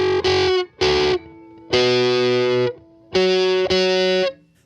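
An overdriven electric guitar through a Fairfield Barbershop pedal plays five loud, buzzy chords in short bursts with gaps between them. A slightly detuned, chorus-like wavering thickens each chord, and no one speaks over it.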